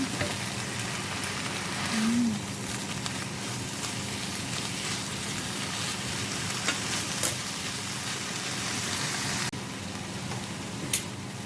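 Pak choi is stir-fried in a pan, a steady close sizzle broken by scraping stirs and occasional sharp clanks of a utensil against the pan.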